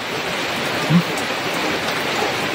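Dense, steady hiss of heavy rainfall pouring continuously, close and fairly loud, with no other sounds standing out.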